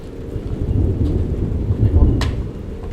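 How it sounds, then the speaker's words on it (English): Thunder rolls as a huge storm brews in the Australian bush, a loud, continuous low rumble over steady rain and wind, with one brief sharper crack near the end. "there was a huge storm brewing"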